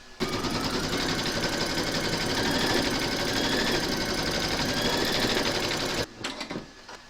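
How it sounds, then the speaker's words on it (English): Embroidery machine stitching a maple leaf applique in a hoop, a fast, steady mechanical rattle of needle strokes running continuously at close range, then stopping abruptly near the end with a few trailing clicks. "Pop your hoop into your machine and stitch round number 2"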